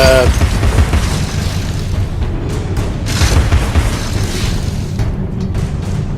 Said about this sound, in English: right trigger to fire the pepper grinder